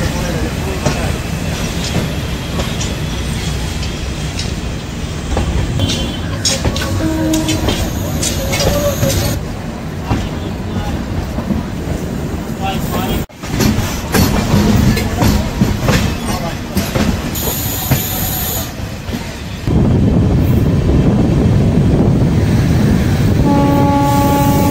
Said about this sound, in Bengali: আমাদের ট্রেন এখন পাতিপুকুর রেল স্টেশন ক্রস করে দমদম জংশনের দিকে এগোচ্ছে।